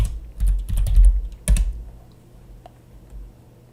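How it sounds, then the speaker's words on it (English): Typing on a computer keyboard in bursts of quick, close keystrokes, then a pause and a few scattered taps as the typing trails off. "here we will let's say type our name"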